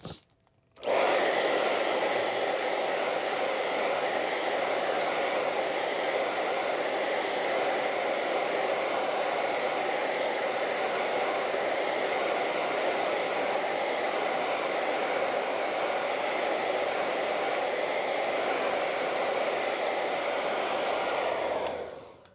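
A handheld hair dryer blows steadily on layers of wet acrylic paint, a loud continuous whoosh that starts abruptly, holds an even roar for about twenty seconds, then cuts off, with no voices over it.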